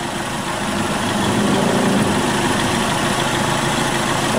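A car engine runs at a steady, loud idle, a continuous low rumble with a slight swell early on and no distinct start-up or talk.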